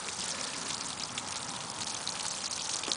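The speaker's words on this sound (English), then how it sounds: "So what I'll do, I will water this half with the brew" Compost tea brew poured from a watering can onto a row of spring onions, a steady close splashing patter of water on soil and leaves running throughout with no talk.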